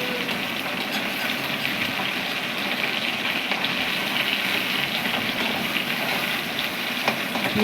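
Live bata fish frying in oil in a kadai, a steady, dense crackling sizzle that holds evenly throughout without pause, close and moderately loud, with no voices.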